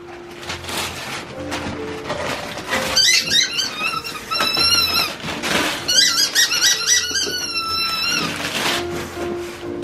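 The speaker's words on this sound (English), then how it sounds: "Why were the kids squeaking it?" A squeaky toy is squeezed repeatedly at a Christmas family gathering, loud rubbery squeals in quick uneven bursts, with household background noise.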